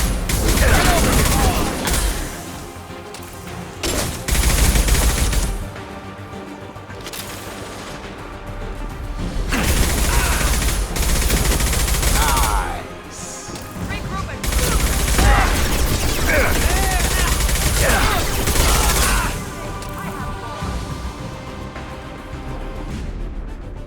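Gunfire erupts in repeated loud bursts in Mass Effect 2, dense volleys separated by brief lulls, with game sound effects filling the gaps.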